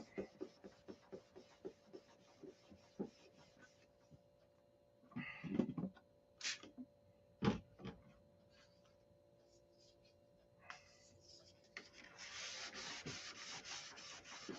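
Quiet rubbing and scraping of sandpaper across a surface in short strokes, with pauses, a few louder thumps and taps, and a longer steady stretch of sanding near the end.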